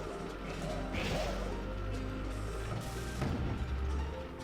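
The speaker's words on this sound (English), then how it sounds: "I fired it into the blockage" Cannon in the Skylanders: Spyro's Adventure video game firing into a blockage, two heavy booming blasts with crashing debris about two seconds apart over a steady background hum.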